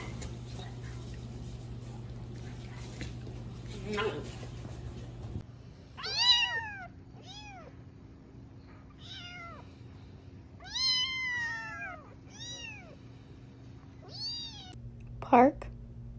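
Several cats meow in a quiet indoor setting, a series of distinct rising and falling meows spaced across the stretch, with one louder, sharper cry near the end.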